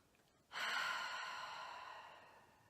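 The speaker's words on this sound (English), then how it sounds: "take 3 deep breaths in and out" A single deep breath drawn in and slowly let out during a guided relaxation, one close, steady airy rush that fades gradually, with no talk over it.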